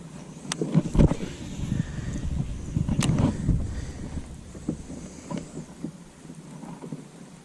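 Wind gusting outdoors on a lake during fall bass fishing, a broad rushing roar with microphone buffeting and a couple of sharp knocks, steady throughout.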